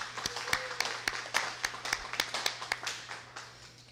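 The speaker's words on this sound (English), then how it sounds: "please give them a round of applause" A handful of people at a healthcare equity event with the Illinois Black Caucus clap sparsely, with distinct, separate hand claps at an uneven pace. The claps are fairly quiet and ring out over a faint room hum.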